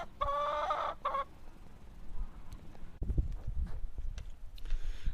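Dominant breed laying hens cluck nearby, one loud burst of clucking at first, followed by quieter rustling and faint farmyard noises.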